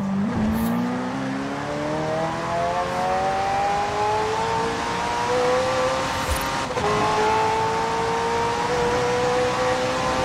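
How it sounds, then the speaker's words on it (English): A McLaren twin-turbo V8 hybrid engine revs steadily upward in Forza Horizon, a loud, continuous rising drone with a brief squeal of tires near the start and no voices over it. "The car's blistering performance is delivered by a twin-turbo V8, supplemented by a McLaren ECU electric motor and instant power assist system."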